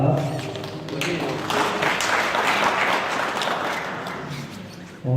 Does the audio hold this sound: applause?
yes